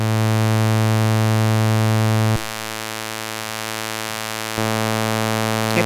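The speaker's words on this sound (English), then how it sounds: "right now I put a sawtooth into it from the VCO, and we will hear how it affects it" Raw sawtooth from a modular synth VCO fed through a passive filter module, a steady buzzy harmonic drone that shifts level and tone abruptly twice, loud and alone.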